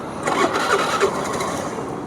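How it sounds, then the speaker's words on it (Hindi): Honda Activa 110cc scooter, eight years old with 20,000 km, starting up: a short starter whir catches into a steady running engine, close and moderately loud, over about two seconds. "थोड़ा सा इसके इंजन की साउंड आपको सुनाता हूँ, इंजन की, और अपना साइलेंसर कैसा इसका साउंड करता है मैं आपको दिखाता हूँ।"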